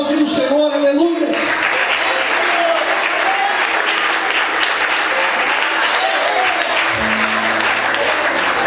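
A church congregation applauds in a dense, sustained burst of clapping that fills the room at strong volume, with a speaker's voice heard over the start and a brief voice near the end.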